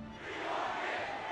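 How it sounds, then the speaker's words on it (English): Boxing fight crowd chanting "we want Gib" for the undefeated fighter Gib, a loud massed roar of voices swelling and holding steady, heard briefly in one sustained burst. "you could hear the crowd chanting, we want Gib, we want Gib"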